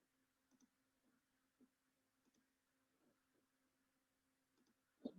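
A computer mouse clicks a few times, faint and scattered across a quiet room, including a quick double click, before a short louder bump at the very end.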